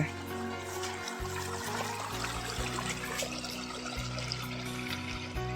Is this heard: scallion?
no